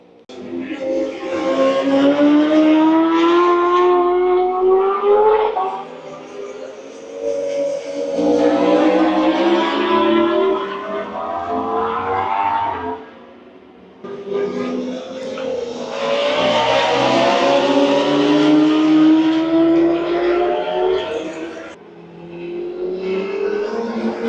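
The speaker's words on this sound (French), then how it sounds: "sur ce circuit des 24 heures du Mans, aujourd'hui c'est entraînement moto" Loud motorcycle engines roar past in repeated waves during practice at the Le Mans 24 Hours circuit, pitch rising and falling as they accelerate and sweep by, heard from the grandstands with crowd ambience beneath.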